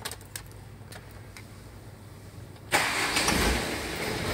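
A car engine with a fault that keeps it from shutting off cranks and catches after a quiet stretch, a sudden loud start settling into a steady, close idle.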